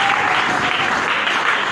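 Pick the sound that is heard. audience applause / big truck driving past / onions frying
audience applause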